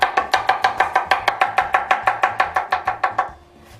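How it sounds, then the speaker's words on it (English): Garlic sliced with a knife on a cutting board, about twenty quick, even chops in steady rhythm, close and crisp, with no talking, before stopping. "I'm going to start by slicing some garlic"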